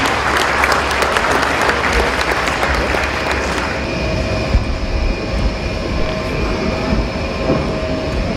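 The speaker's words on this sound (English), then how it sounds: "Ladies and gentlemen, please give a round of applause." A crowd at a college graduation ceremony applauds with dense, steady clapping that is loud at first, then thins and fades into a softer rumble of room noise.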